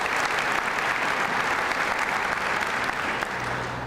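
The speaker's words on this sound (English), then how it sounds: "Give them a round of applause." Audience applause at a county state-of-the-county address, a large room clapping steadily and fairly loudly, sustained for several seconds before tapering slightly at the end.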